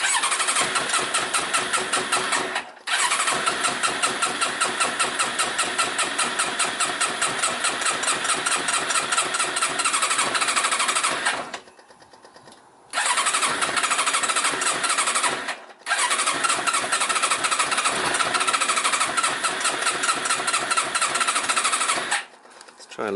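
A Yamaha Diversion motorcycle engine, being revived after failing to start, fires and runs loud and close with a rapid rough pulse, cutting out briefly around three, twelve and sixteen seconds before catching again.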